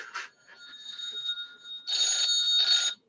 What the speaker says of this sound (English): you guys hear my phone going off?